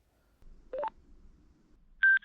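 Cardo PACKTALK/BOLD intercom phone connection tones: two short electronic beeps a second or so apart, the first a rising pair of notes, the second higher and louder, over a faint quiet background.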